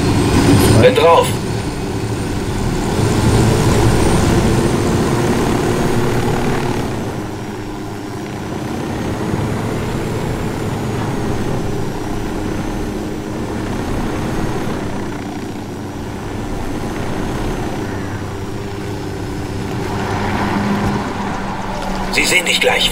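A steady helicopter rotor drone with engine hum runs throughout in Ghost Recon Wildlands, joined by game sound effects and people talking in German over it.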